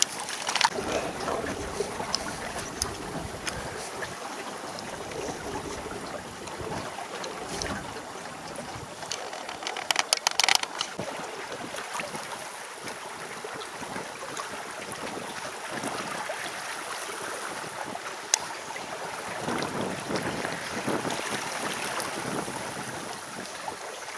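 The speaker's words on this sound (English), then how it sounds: "Just a nice steady breeze, lovely." Steady breeze blowing over a sailing boat under way, a constant broad rush of wind across the microphone mixed with water swishing along the hull, with a few sharper gusts and knocks.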